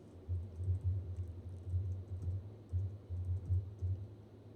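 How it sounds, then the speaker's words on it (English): Computer keyboard arrow keys are pressed in a steady series of soft, close clicks and thumps, with no talking over them. "Just use my arrow keys."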